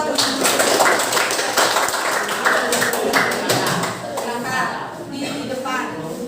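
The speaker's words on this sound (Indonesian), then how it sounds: "Kasih tepuk tangan buat teman-teman." Classmates in an Indonesian classroom clap for a group heading to the front, a busy run of sharp overlapping claps that thins out toward the end, with a voice talking over it.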